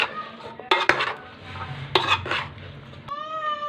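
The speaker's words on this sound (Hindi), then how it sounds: "अभी इसे अच्छे से हम लोग मिक्स कर लेंगे" Boiled potatoes and chickpeas being mixed for Lahori chana chaat, with a spoon scraping and clinking against a dish in a few sharp knocks and softer stirring, fairly close. A brief high squeal comes near the end.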